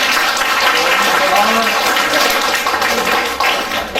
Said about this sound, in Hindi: सबसे पहले हम जोर से तालियां बजा करके फादर का स्वागत करेंगे